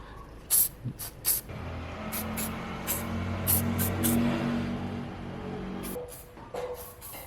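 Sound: spraying lubricant spray onto a metal roof

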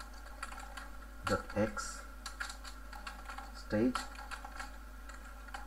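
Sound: typing on a computer keyboard

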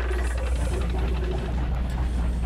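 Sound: ship engine failing in the video game Mega Man Legends

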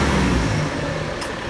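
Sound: car engine running

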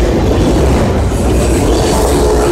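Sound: empty auto rack freight train passing

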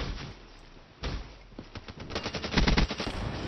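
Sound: gunfire in the video game Call of Duty Black Ops 3

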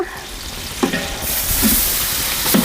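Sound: ginger garlic paste frying in a pan

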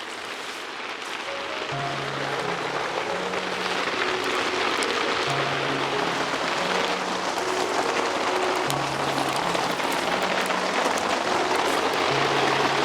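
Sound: rain falling outdoors

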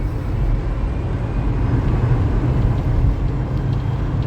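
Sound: electric car motor revving at full throttle

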